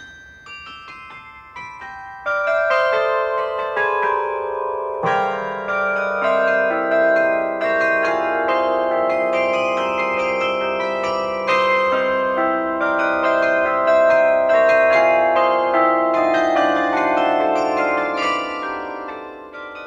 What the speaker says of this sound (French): c'est un carillon plus léger que ceux que l'on trouve dans les beffrois. Il a quand même 50 cloches